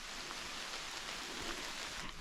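Steady rain falling through a beech forest with a few maples mixed in, a dense, even hiss of drops on leaves held at a constant low level throughout, with no voices.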